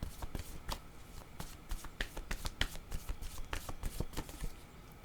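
Tarot cards are shuffled close by in quick, crisp riffling bursts with sharp slaps and flicks, repeated steadily over a few seconds at low volume with no talking.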